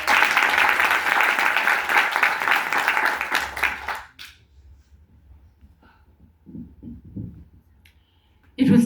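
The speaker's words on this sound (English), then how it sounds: "Please give a hand of applause to each of the speakers who came before me" Audience applause for a line of speakers at a G20 Africa event: dense, steady clapping for about four seconds, then it cuts off abruptly into near silence with faint scattered sounds.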